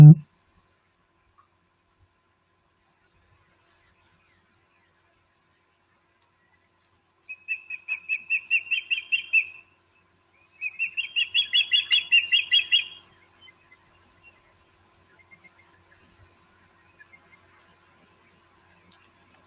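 Birds chirp outdoors in two bursts of rapid, rhythmic tweeting, each lasting a couple of seconds and clearly audible against near silence, followed by a few faint scattered calls.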